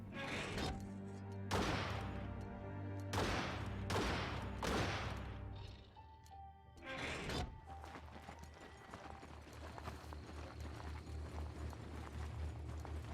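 Built-in gun on a creature mount firing in the video game Biomutant, a run of loud sharp bursts in quick rapid clusters, followed by a dense rattling, busy stretch of continued action with no talk.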